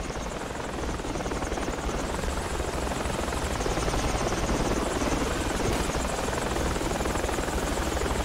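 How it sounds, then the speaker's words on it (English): Military transport helicopter in the Project Reality battlefield game approaching, a loud, steady rotor thump and turbine whine filling the whole span without break. "Alright, chopper's coming."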